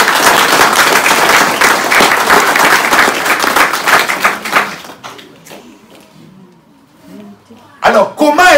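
A church congregation applauds loudly at a sermon, many hands clapping densely for about five seconds, then fading to quiet murmurs and scattered sounds before a voice resumes.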